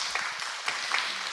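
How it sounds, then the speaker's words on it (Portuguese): Audience applause at a panel forum on housing improvements, a steady patter of clapping across the whole short stretch, moderately loud and without talk. "Palmas"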